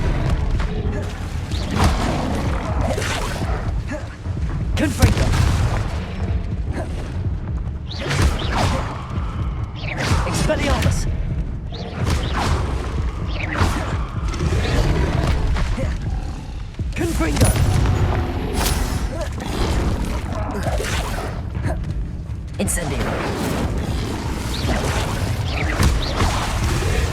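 Confringo blasting spells from the Hogwarts Legacy video game detonate in a continuous barrage of loud booms and whooshing bursts, with repeated impacts and crashes for the whole stretch amid steady game action.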